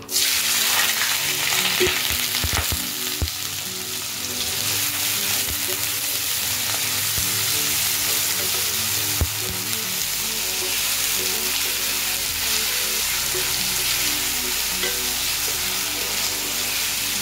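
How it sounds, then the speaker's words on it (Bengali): Cut potatoes frying in oil with black cumin, a loud, dense, continuous sizzle close up, with a few knocks of stirring early on before settling to a steady hiss. "আলুটাকে ভালো করে নেড়ে চেড়ে 5 মিনিট গ্যাসের ফ্লেমটাকে কমিয়ে ঢেকে রেখে দেবো"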